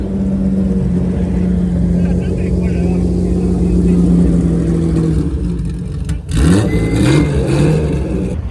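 Car engine at the Daikoku parking area car meet in Tokyo, a steady mid-pitched drone and hum throughout, then a sharper rising rev surge near the end, with crowd noise around.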